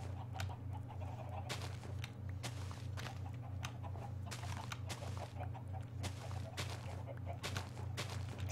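Chickens in the Minecraft video game clucking near the player while digging, with sharp repeated clicks and taps over a steady low hum, fairly faint.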